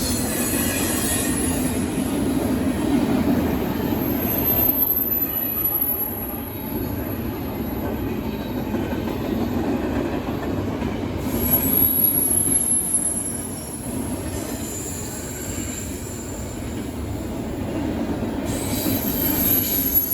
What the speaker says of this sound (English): This will be Z195 northbound intermodal